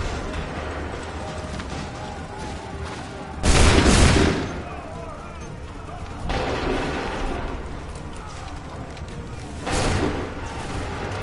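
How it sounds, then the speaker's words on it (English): Musket volleys in Assassin's Creed III Remastered: three separate loud, booming bursts of massed gunfire spaced several seconds apart over continuous battlefield noise and commotion. "Fire now!"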